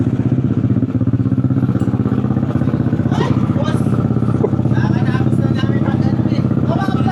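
Yamaha Aerox V2 scooter engine idling close by, a loud, steady low throbbing drone with fast even pulses, mixed with clattering and voices talking nearby.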